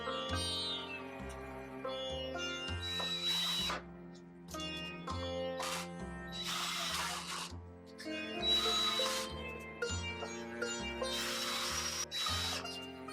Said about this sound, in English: I pre-drill and drive in some screws to secure the joint.